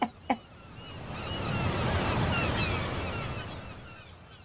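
Ocean waves on the East Sea coast, a single wash of surf swelling and fading over a few seconds after two brief knocks at the start.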